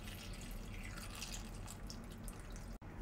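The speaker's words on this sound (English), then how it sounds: "Now we're gonna add cold water," Cold water runs and splashes from a tap into a pot of dumplings, a continuous close gurgling pour that cuts off abruptly near the end.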